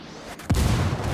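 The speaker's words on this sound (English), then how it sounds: "Is that a mortar?" A single heavy in-game mortar blast in Ghost Recon Breakpoint, a sudden loud boom after a short quiet moment, its rumble lingering to the end.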